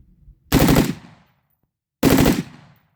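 A BCM 11.5 rifle fitted with a forced reset trigger fires two loud, rapid bursts about a second and a half apart, each a fast string of sharp shots with silence between.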